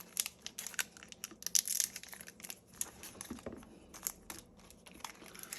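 Scissors cut a coin out of crinkly mint cellophane packaging, giving close, quiet bursts of crackling and crumpling plastic with small snips and rustles.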